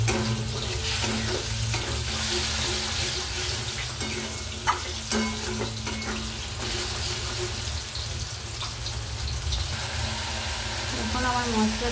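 Masala with green chili and a splash of water fries in oil for a fish-head and bottle gourd curry, a steady loud sizzle broken by stirring scrapes and clinks, with running-water sounds mixed in.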